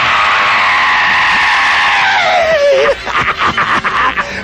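A performer lets out a long, loud scream at a live show, a sustained high wail that slides downward and breaks into rough, choppy bursts at the end.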